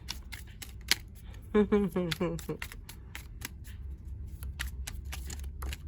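Tarot cards are shuffled, a rapid run of crisp riffling clicks and slaps close to the microphone, with a voice briefly speaking over part of it.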